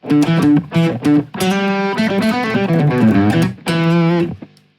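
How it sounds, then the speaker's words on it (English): Clean electric guitar on the neck pickup playing a short melodic phrase with clear sustained notes and chords, warm and rounded, played alone and close. "the neck pickup, it sounds like this"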